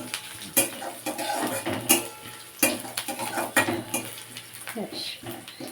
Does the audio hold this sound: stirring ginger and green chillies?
yes